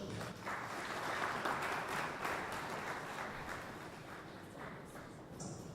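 Faint, steady applause from an audience at a stakeholders' forum on waste management, a dense wash of clapping that holds for several seconds and slowly tapers off.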